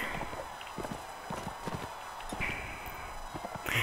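Horse hooves gallop in a medieval video game, a rapid, steady clip-clop of hoofbeats close by with a whoosh of game ambience and occasional high effect tones.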